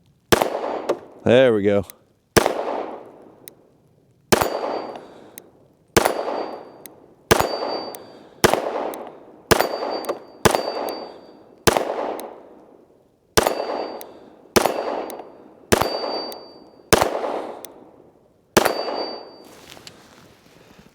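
About a dozen pistol shots, ringing off a steel target at an outdoor range from a Springfield Prodigy DS Comp, fired at a steady, unhurried pace, each a sharp crack with a decaying ring. A brief ringing tone sounds near the start, and a voice speaks briefly.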